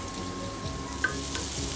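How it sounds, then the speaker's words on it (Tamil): Soft steady sizzling of onions sautéing in a pan, with a faint clink of a utensil near the middle. "நல்லா கலந்து விட்டு பொன்னிறமாக வதக்கிக்கலாம்."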